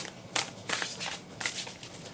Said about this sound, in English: We are going to shuffle, shuffle, shuffle, shuffle.